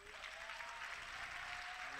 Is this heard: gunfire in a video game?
no